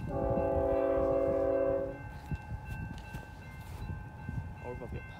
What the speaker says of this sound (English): we shoot an eastbound Z as it flies through the signals with the BNSF Tier 4 Gevo on point